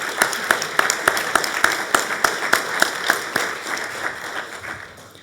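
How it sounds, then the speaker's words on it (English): Audience applause at a town hall meeting about a golf club's course regrassing project, with many hands clapping together in a sharp, steady patter that stays fairly loud and starts to thin out toward the end. "Please give him a round of applause."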